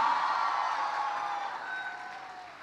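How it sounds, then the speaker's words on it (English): Applause from an audience welcoming Amitabh Bachchan at Seth GSMC & KEM Hospital in Mumbai, a dense steady wash of clapping that fades slightly toward the end, with faint crowd noise. "Let's really resonate this place with a thunderous round of applause."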